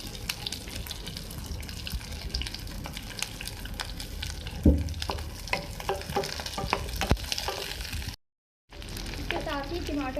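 Onions dropped into hot oil in a pan for a chicken masala, a steady sizzling fry with stirring scrapes and clatter, close by, with a voice briefly over it.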